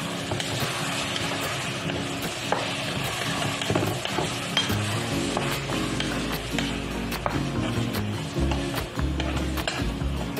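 Tomatoes fry and get stirred in a pan, with a steady sizzle running throughout and scraping strokes scattered over it, close up and moderately loud, and no voices.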